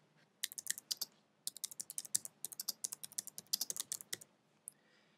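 A computer keyboard is used to type a password while setting up a Windows XP user account: a rapid, uneven run of close, crisp clicking keystrokes with brief pauses, and no one speaks.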